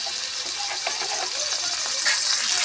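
Tomato pieces drop into frying ginger and garlic for a spicy prawn curry, giving a dense, continuous hiss of oil with no break, close and steady throughout.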